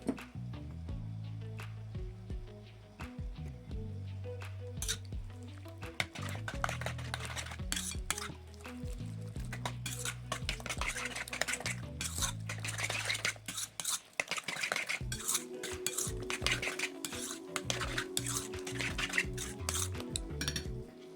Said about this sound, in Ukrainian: Далі додаємо половину натертого сиру і добре все перемішуємо.